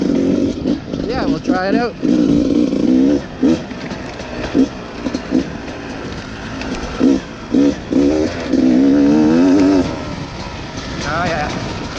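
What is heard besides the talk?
Beta 300 RR two-stroke dirt bike engine riding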